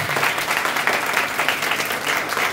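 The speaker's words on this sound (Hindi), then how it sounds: "खुदावंद के जलाल के लिए जोरदार तालियां बजाएंगे।" A church congregation claps loudly during a sermon, a sustained, dense round of applause from many hands that stays even in strength throughout.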